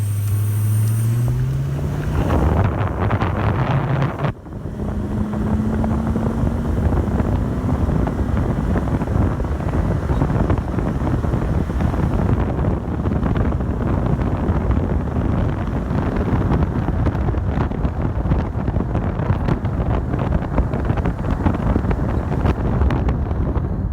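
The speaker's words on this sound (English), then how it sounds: "really step on the gas so that you can hear how the engine sounds under load" Ford F-250 pickup engine pulling hard up a slight incline at full throttle, a loud, steady rumble with a rising engine tone and wind buffeting throughout.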